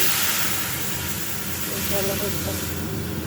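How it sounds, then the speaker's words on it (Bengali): Black cumin seeds sizzle in hot oil as a tempering for dal, a dense, steady hiss that stays close and loud throughout with a faint voice underneath. "ফোড়ন দিয়ে নিলাম, ফোড়নটা একটু ফুটুক"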